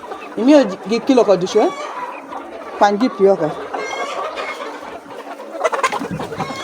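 Laying hens raised for eggs cluck steadily in a poultry house, with overlapping close and distant clucks and occasional louder squawks throughout.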